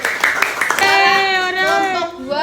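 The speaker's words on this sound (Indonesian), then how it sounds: "Beri tepuk tangan untuk kelompok 1." Pupils in an Indonesian primary classroom clap in a short rhythmic burst for their group, then a voice carries on in a drawn-out, sing-song tone.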